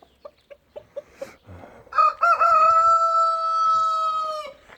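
A few short clucks from Brahma chickens in a row, then a Brahma rooster bursts into a long, loud crow that holds steady before cutting off; close by.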